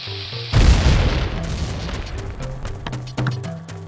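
A bomb explodes in The Legend of Zelda: Ocarina of Time, a sudden loud boom with a crackling tail that fades over a few seconds, followed by a second smaller thump near the end.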